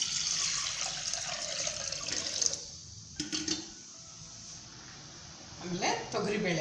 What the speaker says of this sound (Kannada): ಮಸ್ಕಾಯಿ ಸಾರಿಗೆ ಮೊದಲು ನೀರು ಹಾಕೊಂಡು ಸ್ವಲ್ಪ